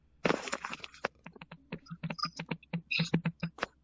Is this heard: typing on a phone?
yes